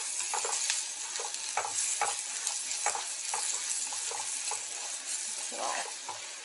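Green chillies and spices sauté in a pan with a soft, continuous sizzle, broken up by regular light scrapes and taps of a spoon stirring against the metal.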